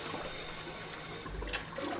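Another pull of a string in the video game 999 sets off a toilet flush, a continuous close rush of draining water with a short gurgling swell near the middle.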